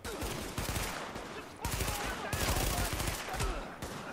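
Rapid, dense gunfire from the video game The Division, with sustained bursts of automatic weapon fire and shots rattling continuously and loudly throughout, crowding the whole clip.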